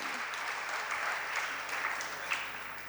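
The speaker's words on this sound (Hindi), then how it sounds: "ताली क्यों बजा रहे हैं आप लोग?" An audience at a Jain religious sermon applauds steadily for a few seconds, a dense, even patter of clapping in a large hall.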